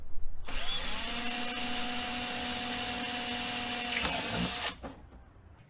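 A power drill at slow speed bores quarter-inch holes in a plastic cup, whirring steadily for about four seconds at close range, a continuous high buzzing whine that stops abruptly, leaving faint background noise.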